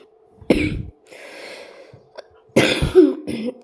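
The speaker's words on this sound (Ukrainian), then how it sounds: "чого я кашлюю, бо я захворів" Two loud, close coughing fits from a sick person, separated by a quiet breathy pause, with a raspy throat-clearing edge and a low hum underneath.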